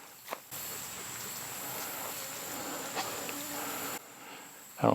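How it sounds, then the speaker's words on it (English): A thin, steady high-pitched mosquito whine hangs over a quiet, still, humid outdoor hush at a van campsite for several seconds, close and persistent. "Probably picking up that mosquito"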